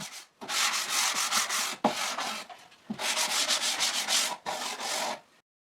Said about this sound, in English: I sand it a little, and those plywood strips are perfectly even.